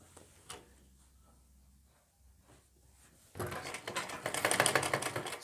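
A sewing machine stitches the hem of a suit. A few quiet handling clicks come first, then the motor starts up and runs in a loud, rapid, rattling burst.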